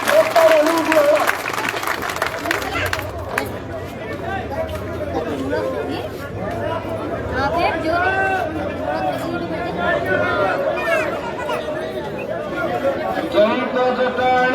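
Applause from a political rally crowd, a dense sustained clatter of clapping mixed with crowd chatter and voices, steady and fairly loud throughout.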